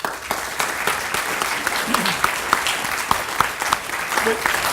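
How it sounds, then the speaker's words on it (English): An audience at an operational research debate session claps for two speakers, producing dense, steady applause with a voice briefly heard underneath. "Please carry on clapping with thanks to both of our eminent speakers here today."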